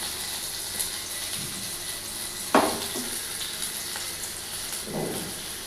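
Pieces of rohu fish fry in hot oil, a steady broadband sizzle broken by a few sharp clinks and scrapes of a utensil against the pan.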